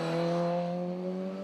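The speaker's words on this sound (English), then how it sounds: "The unmistakable sound of straight cut gears in a proper Cooper S race car." Mini Cooper S race car with straight-cut gears at a sprint event, a sustained loud engine tone with a steady whine, held nearly constant for the whole moment.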